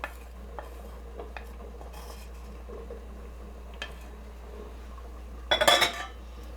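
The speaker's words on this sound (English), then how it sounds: "Mix it all together. Get all that black pepper." Carbonara with wine, cheese and black pepper being mixed in a pan, faint quiet clinks and soft scraping under a steady low hum, ending in a brief louder rattle of utensil against the pan.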